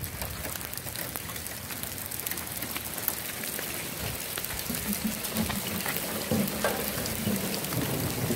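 Hail falls in Dallas during a March storm, making a dense, continuous patter on surfaces that holds steady and unbroken for the whole stretch.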